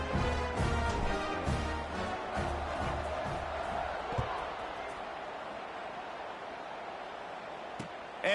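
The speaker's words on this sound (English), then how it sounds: "this crowd is buzzing after that last score" Football stadium crowd at a college game between Stanford and Illinois, a broad buzzing murmur after a touchdown, fairly faint and distant, with scattered thumps early on that settle into a steady background hum.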